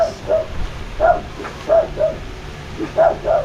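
A dog barks in short repeated bursts, about eight yips and woofs spread unevenly, fairly close and clear over a low background hum with no talk.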